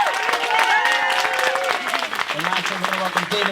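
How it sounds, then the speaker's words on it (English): Wedding guests applaud the maid of honor, a steady, moderately loud patter of many hands with a few voices and cheers mixed in, and talk starting near the end. "Another big round of applause for Maid of Honor Stephanie there."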